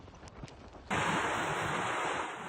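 After a quiet start, a loud roaring rush of strong gusting wind and driving rain from a storm at a port in Lopez, Quezon, suddenly takes over and holds steady.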